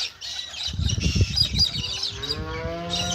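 A cow in the cattle yards moos loudly and nearby in a long, drawn-out call, with some flapping and squawking at the start.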